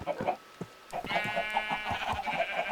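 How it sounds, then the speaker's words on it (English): Pink sheep on a little farm in the Minecraft video game (version 1.6.4 server) give a series of short, repeated bleats at moderate volume, with faint background sounds between calls. "over here we have a little farm with some pink sheep and some horses"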